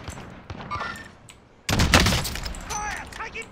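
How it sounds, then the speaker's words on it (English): Sudden burst of gunfire in the Warzone battle-royale shooter, a loud sharp volley erupting after quieter moments, with players talking over the action. "Fire! Taking fire!"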